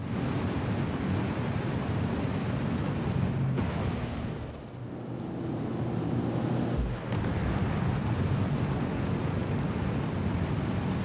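A steady, loud, roaring rush of engine fire from the exterior of a Drake Cutter spaceship in Star Citizen, continuous for the whole stretch with a brief dip and surge midway.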